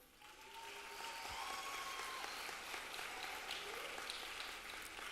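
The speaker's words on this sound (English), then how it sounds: "let's give those students another round of applause" Sustained applause from an audience at a college graduation commencement, honoring graduating students; steady, soft clapping heard from a distance, filling the hall evenly for the whole stretch with no talk over it.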